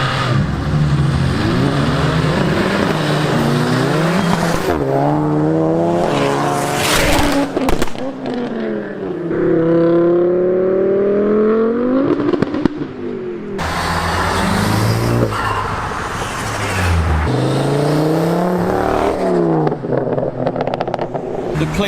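Modified cars on their way to an Isle of Wight car show pass through a residential street, engines loud and close as they rev and accelerate by one after another with rising and falling pitch, some voices underneath.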